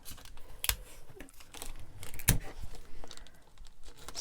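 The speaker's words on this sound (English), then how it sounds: "with a piece of Scotch tape, I'm going to fold this over and tape this down." Paper being folded over and fastened with Scotch tape while making an ice cream shaker card, giving a few close, sharp crinkles and tape snaps with soft handling rustle in between.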